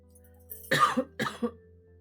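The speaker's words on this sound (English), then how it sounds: "Mini coughing fit." Two short, sharp coughs close to the microphone, a brief pause between them, in an otherwise quiet room.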